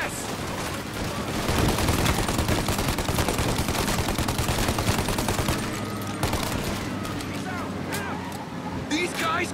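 A gunfight in Mafia Definitive Edition brings dense, continuous bursts of rapid shots over a busy noisy background, with a voice speaking under the action.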